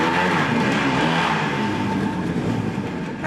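Car engine revving loudly outside, a steady roaring drone of an internal combustion engine heard from indoors, sustained throughout with slight fluctuations and no talking.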